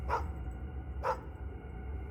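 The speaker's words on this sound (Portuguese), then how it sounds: "Minha cachorra estava deitada do lado de fora da casa e, ao ouvir a conversa e os passos deles na rua, acordou e começou a latir." Dog lying outside a house barks twice, about a second apart, at moderate distance against a low background hum, with no talk.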